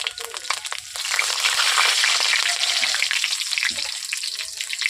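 Black cumin seeds and green chillies hit hot oil in a wok, a loud, steady sizzle swelling after a second and crackling on alone for several seconds.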